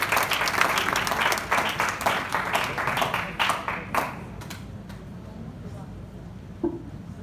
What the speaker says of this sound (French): applaudissons très fort pour elle